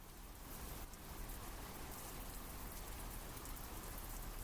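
Rain in a video game scene falls in a steady, dense hiss of drops, broad and continuous throughout at moderate level, with no voices.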